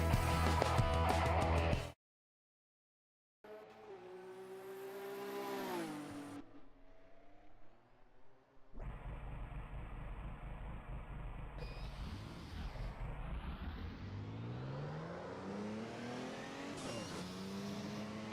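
Group C race car in a racing video game at Brands Hatch, engine revving hard and rising through gears, a short silent gap early on, then a sustained loud whine that climbs and drops with shifts.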